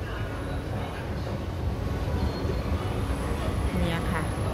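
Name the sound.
Bang Sue train station ambience, MRT Red Line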